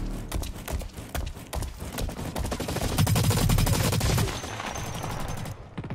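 Rapid automatic gunfire from the online shooter Blacklight: Retribution rattles in dense, continuous bursts, loud and close, with heavier impacts and a brief lull near the end.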